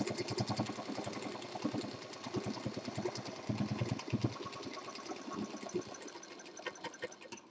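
A sewing machine stitches a heart-shaped party bag in a fast, steady, close-up mechanical rattle that runs throughout with slight pauses.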